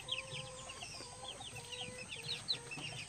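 Golden Boy/Sweater chicks aged two and three weeks peep in a busy, overlapping chorus of short, high cheeps, fairly faint, with some lower clucking underneath.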